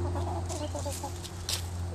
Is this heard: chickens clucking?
yes